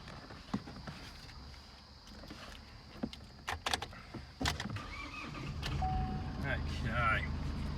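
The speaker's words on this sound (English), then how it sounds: "I'm just going to jump in the car. I'll turn it on. Just get the keys out of my pocket." A 2017 Holden Colorado ute being entered and started, with soft clicks, key and door handling sounds, then the engine turning over and settling into a low idle near the end, all fairly quiet.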